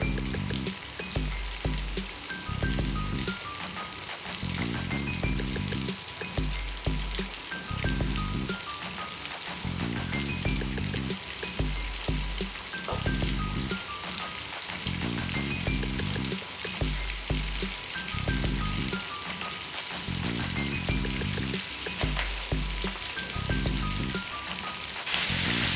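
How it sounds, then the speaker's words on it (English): Chicken wings sizzle loudly in hot frying oil, a steady dense crackle and hiss with constant popping, close and alone for the whole stretch. "Listen how the chicken is sizzling."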